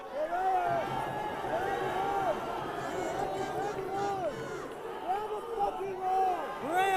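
A loud arena crowd roars and cheers continuously at a fight night, with rising whoops and shouts swelling in waves, a commentator's voice mixed in.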